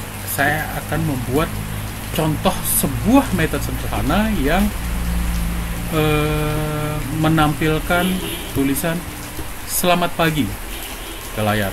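Steady rain falls outside on a morning, a continuous hiss running beneath someone speaking Indonesian throughout.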